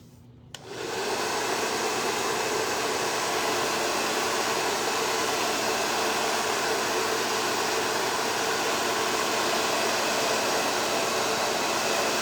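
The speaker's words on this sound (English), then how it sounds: "I'm gonna take my hair dryer" A hair dryer switches on after a brief quiet moment and blows continuously onto paint with a loud, even whoosh and a faint hum beneath it.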